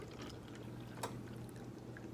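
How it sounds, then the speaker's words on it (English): Hot water poured into a cup during a third-grade science lesson, a soft continuous trickle with one brief louder splash, faint and heard alone. "Now I'm going to pour some hot water"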